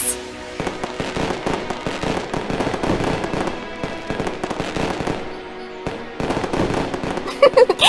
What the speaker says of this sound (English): Here come the fireworks!